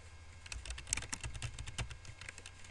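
Steady typing on a computer keyboard while entering data into a variety-tracking program, many quick close key clicks in an irregular rhythm, moderately loud and alone with no talk.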